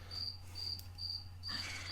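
A cricket chirps in steady repeated bursts, close and clear over a constant low hum, with no voices.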